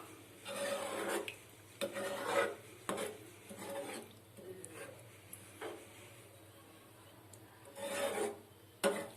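Prawn gravy is stirred in a pan, a string of rough scraping rubs repeating irregularly at close range, each stroke short and rasping, with no talking.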